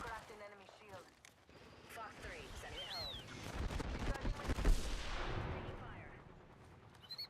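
Video game gunfire from an air combat shooter, dense bursts of shots and blasts building into a loud, continuous barrage with whooshing effects.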